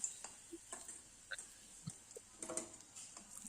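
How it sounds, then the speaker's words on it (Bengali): Pakoras fry in hot oil, giving a faint, steady high sizzle with scattered small pops and ticks and soft clinks now and then, all quiet and close with no voices. "এইভাবে আমি প্রত্যেকটা পকোড়া ভেজে নিই"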